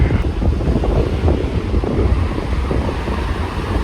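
Sea waves wash onto a beach at Tsilivi, Zakynthos, a steady low surf roar heavily mixed with wind buffeting the microphone, continuous and close, with no voices.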